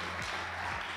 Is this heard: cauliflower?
no